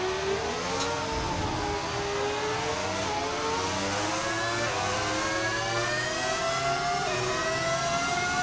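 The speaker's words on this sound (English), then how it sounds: "beauty of the V10 engine is what you're hearing right now" A V10 engine of a car in the F1 25 racing game screams at high revs, a continuous loud whine that climbs and drops with gear changes.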